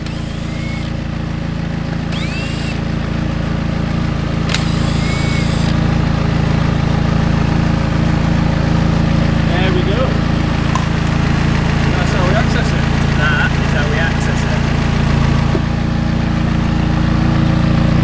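A McLaren 570S engine runs steadily while warming up in a workshop, a loud, continuous idle drone close by, with occasional faint clinks in the background.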